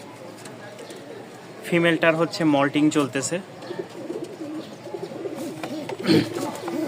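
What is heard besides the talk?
pigeons cooing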